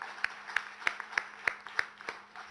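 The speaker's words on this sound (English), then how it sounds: "I think you deserve a much, much bigger round of applause than anybody else." A small audience at a rocket launch success celebration at T-Hub claps in a sparse, evenly spaced rhythm, about seven distinct claps roughly a third of a second apart, fading out toward the end.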